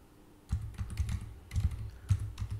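A password being typed on a computer keyboard: soft, close keystrokes in short bursts of several clicks, separated by brief pauses, quiet and with no talk.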